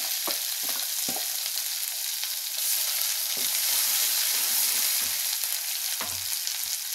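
Masala spices with red chili sizzle and are stirred in a pan of oil for an egg curry, with a continuous close hiss broken by several sharp spoon scrapes and knocks.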